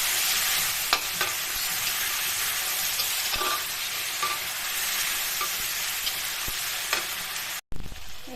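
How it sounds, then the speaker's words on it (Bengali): Ground cumin, coriander and Kashmiri chili powder fry in hot oil in a pan with a constant bright sizzle, punctuated by occasional light scrapes of stirring and a brief break near the end. "জিরে ধনে কাশ্মীরি লঙ্কার গুঁড়ো এমনি লঙ্কার গুঁড়ো সব দিয়ে দিলাম দিয়ে ভালো করে কষিয়ে দিলাম"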